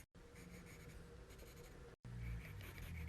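A pencil drawing lines on paper, with colored pencil strokes tracing a figure outline: a steady, soft scratchy scraping that runs continuously, briefly breaks, then resumes slightly louder and close up.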